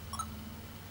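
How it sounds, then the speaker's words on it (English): A Sony camcorder gives a quick double beep as the menus are scrolled, followed by quiet background hiss. "So this will play every time you move through the menus like this."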